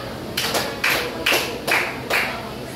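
Students in a classroom clap five times in a slow, even rhythm, each clap a sharp group burst fairly close by.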